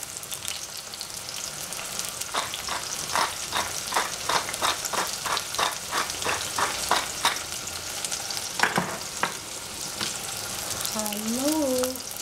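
Eggplant and cabbage fry in cooking oil with a steady close sizzle, broken by a run of rhythmic stirring scrapes, a brief voice near the end over the crackle.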